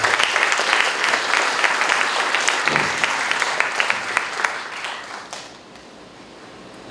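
An audience applauds a speaker at a university lecture event in Peru, a dense, steady wash of many hands clapping that thins out and fades near the end.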